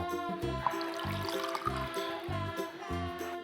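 Water trickles and pours onto a homemade water wheel in a simple STEM experiment, a soft continuous splashing and dribbling with a gentle rhythmic knock recurring about every half second.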